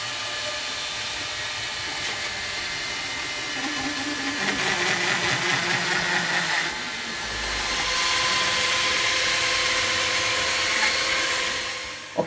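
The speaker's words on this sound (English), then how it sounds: "Okay, so after the sanding," Sanding a wooden arrow shaft for a longbow, a continuous abrasive rushing hiss that swells and eases slightly over about twelve seconds, loud and close with no talking.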